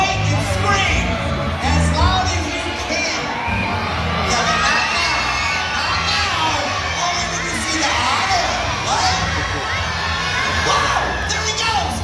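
A large crowd of children shrieks and cheers loudly and continuously in the audience of a Christmas sea lion show at SeaWorld Orlando, with yelling voices merging into a dense roar.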